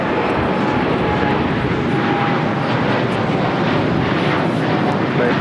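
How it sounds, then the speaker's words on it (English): An American Airlines Boeing 787-8 Dreamliner takes off from LAX runway 25 left, its jet engines a loud, steady broadband roar sustained without a break. "This is American Airlines Flight 27 taking off to Tokyo, Haneda on a 787-8 Dreamliner."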